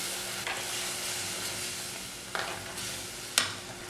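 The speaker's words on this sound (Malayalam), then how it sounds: "എടുത്തു വച്ചിരിക്കുന്ന പുളി വെള്ളത്തോടുകൂടെ ഒഴിച്ചു കൊടുക്കുക" Tamarind water is poured into a hot pan of shark curry with salt, giving a steady close sizzle and hiss, with two sharp clinks of utensils against the pan near the end.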